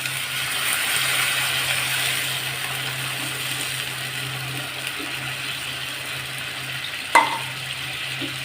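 Coral fish curry masala sizzling in a pan after a splash of water, a steady soft frying hiss under a low hum, with one sharp utensil click late on.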